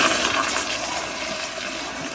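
A 2009 Gilpin Proflo elongated pressure-assist toilet flushes on one gallon, a steady, dense rush of water that holds close and loud and fairly even throughout.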